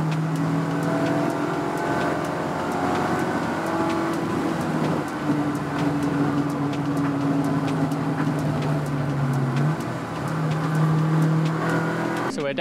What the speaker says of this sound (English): And there's the Brad Kayla car also making its exit.